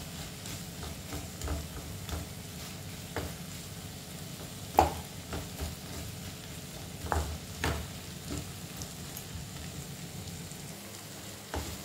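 Potatoes for a mushroom and potato pepper masala sauté in a pan with a soft, low sizzle, with a few scattered spatula clicks and scrapes.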